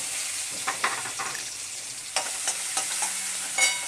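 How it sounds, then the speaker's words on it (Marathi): Finely chopped onion fries in oil with mustard seeds, cumin and asafoetida, a soft steady sizzle under scattered light stirring clicks and scrapes, fairly close and alone with no voices. "मी ह्या एक बारीक चिरून घेतलेला कांदा घालून घेते"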